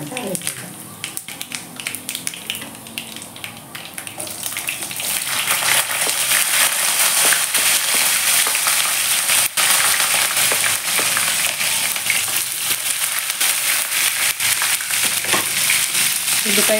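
Onion and tomato frying in a pan, with a quieter start that builds into loud, steady sizzling and crackling, broken by occasional stirring and scraping noises while someone talks over it.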